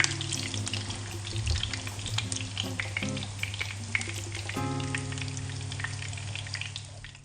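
Irani cutlets frying in a pan, a close bubbling sizzle with crackling pops, a few stirring scrapes and a tonal hum in the middle, fading slightly toward the end.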